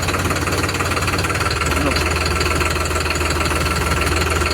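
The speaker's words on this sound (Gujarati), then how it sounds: "એફપીટીનું એન્જિન છે, ફિએટ પાવર ટ્રેનનું" A New Holland 3230 45 HP 4x4 tractor with a Fiat Powertrain (FPT) engine runs at a steady idle, a loud close diesel chug with a fast even knocking pulse throughout.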